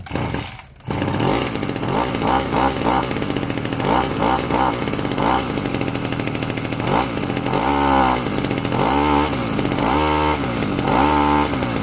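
A small two-stroke gasoline grass trimmer engine with a fuel leak sputters to life and runs loudly nearby, revving up and down in uneven bursts.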